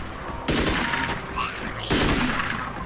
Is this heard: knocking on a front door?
no